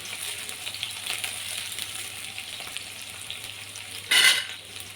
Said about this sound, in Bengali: দিয়ে অল্পভাবে এটাকে ভেজে নিতে হবে পেঁয়াজের সাথে